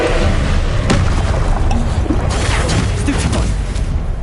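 A Descendo spell slams down in Hogwarts Legacy, a loud booming impact with a thudding crash and rumbling debris that stays heavy and dense across the moment.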